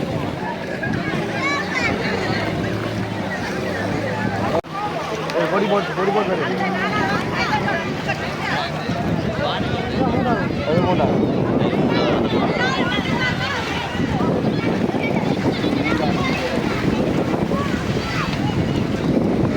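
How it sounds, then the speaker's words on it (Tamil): Racing boats on the sea off Mathagal, Jaffna, with strong wind buffeting the microphone, a constant roar of engines and spray with a sudden shift partway through. "இந்த படகு வந்துட்டு 3வது இடத்தை தட்டி சென்று கொண்டிருக்குது."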